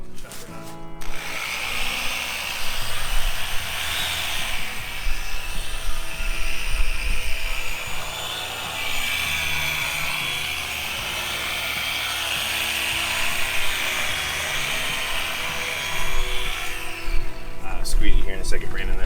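A sander with Abralon 500 foam discs works the gelcoat of a 25-foot Ranger Tug boat, giving a steady, loud whirring drone throughout while voices talk over it.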